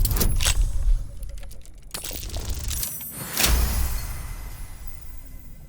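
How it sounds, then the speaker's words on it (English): Lockpicking in Baldur's Gate 3 ending in a successful dice roll: a few bright metallic clicks and rattles, then a louder clattering burst midway with a lingering ring, no voices. "listen to that successful dice roll when lockpicking something"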